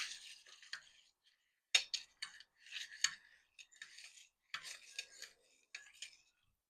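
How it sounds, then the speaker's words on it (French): A Bramble cocktail with gin being stirred, with bursts of metallic clinking and scraping close up, coming in short uneven runs with brief pauses between them. "Donc là maintenant, on va mélanger un petit peu."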